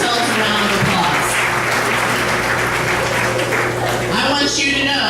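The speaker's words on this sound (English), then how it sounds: "please give yourselves a round of applause." A room full of school bus staff at a season kickoff gathering claps together, steady, loud applause from many hands carried over a low steady hum, with a few voices faintly mixed in near the end.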